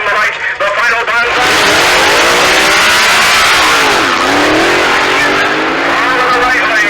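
Two 1966 drag racing cars, a blown Hemi and a Ramchargers car, launch at Ubly Dragway with a loud, sustained roar of engines revving and accelerating up close, filling the whole stretch.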